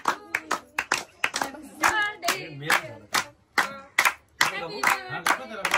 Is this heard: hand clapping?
yes